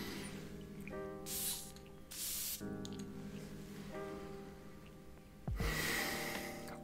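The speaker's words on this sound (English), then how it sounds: "I'm just going to go ahead and spray this on my skin right here on the wrist" Perfume sprays from an atomizer onto a wrist in several short hissing bursts with pauses between them, close up and alone, and one last burst near the end.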